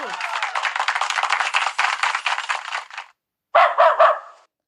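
Dog barking loud and near, a long run of rapid barks, then a pause and a short final cluster of three or four barks.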